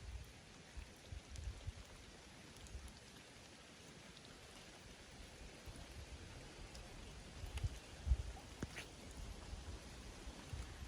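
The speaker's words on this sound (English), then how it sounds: "the rain just keeps coming and I don't think it's gonna stop" Rain falls outdoors on a farm in autumn, a steady, faint patter with scattered louder drops over about eleven seconds and no voices.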